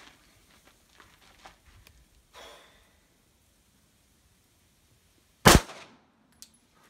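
A single sharp, loud flintlock pistol shot rings out in a duel after a few seconds of near silence, followed by a brief decaying echo and a small click.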